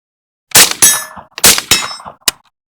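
An A3 Tactical Triad bullpup rifle fires about five loud, sharp shots in an uneven rhythm, each cracking close by with a brief metallic ring before fading to silence.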